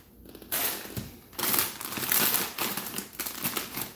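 Someone eats crunchy food nearby, with dense, repeated crinkly crunching bursts that continue steadily and fairly loudly throughout, without any speech.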